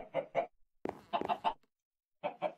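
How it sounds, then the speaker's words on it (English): Chickens cluck in the video game Wanderlust Reloaded, in short rhythmic bursts of clucks separated by brief silences, close and clear with no talk. "Sorry about the annoying chickens."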